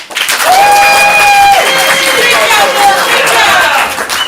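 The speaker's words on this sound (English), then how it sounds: "if you accept Bill's apology, applaud now" A comedy improv audience applauds loudly and continuously to accept a performer's apology, dense crowd clapping with cheering and a sustained voice or whistle-like tone running through it.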